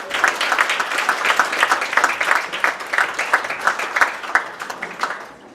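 Audience applause for performers playing soldiers in a 1914 wartime stage show, a steady patter of many hands clapping close by, fading out at the end.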